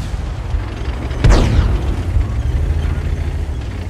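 In a World of Tanks match, a tank cannon fires a shell that lands with a single loud, deep boom and a rumbling tail, over a constant low engine drone, with no talking.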